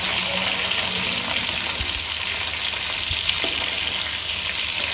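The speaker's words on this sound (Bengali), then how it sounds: "মাছটা একটু হালকা ভাজবো" Hilsa fish frying in mustard oil in a pan makes a loud, dense, continuous sizzle up close. The sound holds even throughout, with no talking.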